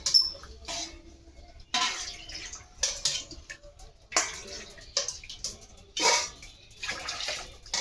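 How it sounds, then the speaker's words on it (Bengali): Water added in short pours to a cooking pot in a home kitchen, heard as several soft splashing bursts with brief pauses between them, close by and fairly quiet. "আর একটু জল লাগবে, একটু জল দিয়ে দিই।"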